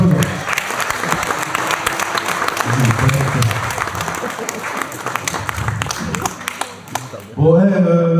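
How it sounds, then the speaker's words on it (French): An audience at a live show applauds and cheers in a dense, steady wash of clapping, swelling near the end with voices shouting over it. "Vous pouvez vous applaudir."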